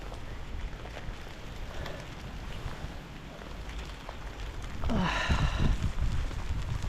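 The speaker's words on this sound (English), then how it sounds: "Yes, it is really raining." Steady rain falls across a wet garden during Storm Ciaran, a constant hiss under gusty wind, growing heavier and closer in the last couple of seconds.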